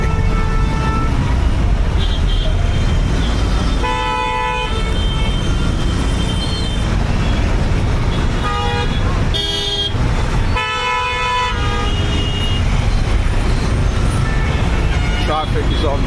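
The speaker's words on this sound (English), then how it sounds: "Unbelievable traffic here. To be honest. Oh, everyone is honking." Heavy, congested road traffic in India, with loud, repeated car and truck horns honking in overlapping bursts over a constant engine rumble, close and dense throughout.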